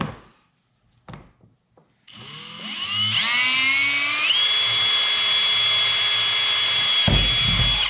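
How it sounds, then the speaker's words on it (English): A power drill bores a hole with a bit for a plug while installing a MotorGuide Xi3 trolling motor on a Bonafide SS127. A few quiet knocks come first, then a loud, steady, high whine that ramps up and holds for several seconds before stopping. "So we'll just take our drill bit."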